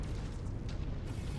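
Airstrike explosions in the mech combat game MechWarrior 5: Mercenaries roar as one loud, sustained rumbling blast that fills the whole clip without a break, with no voices over it.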